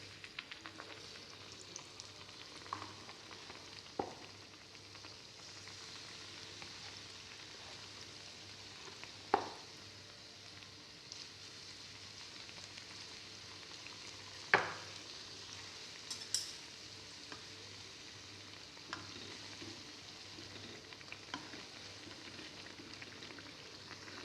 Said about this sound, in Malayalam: ഇങ്ങനെ നമ്മൾക്ക് മുഴുവനും ഇതുപോലെ ഇങ്ങനെ വറുത്ത് കോരാം.